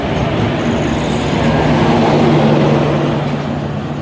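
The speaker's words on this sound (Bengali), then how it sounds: "এই ঢুকছে আমাদের মৎস্যগন্ধা এক্সপ্রেস" Matsyagandha Express passenger train pulling in at a station platform, a loud steady rumble of rolling wheels and carriages with a low engine drone, sustained throughout without speech.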